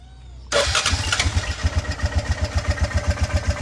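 A Honda Rubicon ATV engine catches and settles into a loud, close idle with a steady, even chugging pulse.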